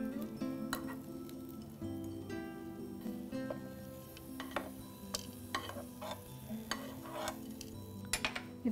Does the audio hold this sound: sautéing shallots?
yes